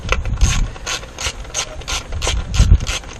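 A ratchet tightens a bolt on the ignition coil of a 2002 BMW 325i, its close, loud clicking in quick, even strokes repeating about a dozen times without pause.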